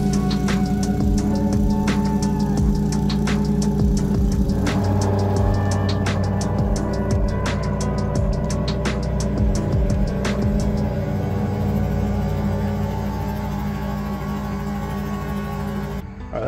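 Lawn mower fitted with a dethatching rake cutting dead thatch and matted grass, a loud steady engine drone with a whining rotating tone and scattered sharp ticks from debris, running nearly continuously before cutting off at the end.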